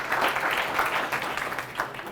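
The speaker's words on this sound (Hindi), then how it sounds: "Can we clap for Faraz?" Audience clapping for a participant named Faraz at a lifestyle and stress talk, a steady wash of many hands applauding at moderate loudness that stays even before tapering slightly at the end.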